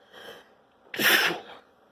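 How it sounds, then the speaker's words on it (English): A soft intake of breath, then one sharp, loud sneeze close to the microphone, followed by quiet. "I gotta sneeze"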